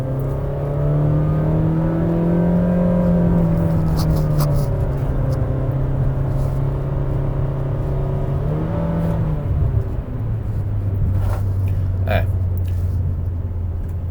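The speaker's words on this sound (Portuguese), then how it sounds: "Agora uma subida, vamos ouvir a saúde do motor." A new Honda City engine drones steadily while the car climbs uphill, a loud, close hum that rises in pitch, then drops after a gear change, with road noise and faint interior rattles.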